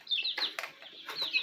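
High, thin peeping calls from chicks in a brooder chirp in quick overlapping bursts, close by and fairly soft.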